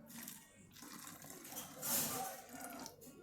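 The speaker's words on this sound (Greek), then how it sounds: "Δείτε και πόσο νερό θα βάλουμε." Water poured into a plastic bottle to make a homemade hookah, a short splashing trickle that rises to a brief louder gush midway, with faint voices around it.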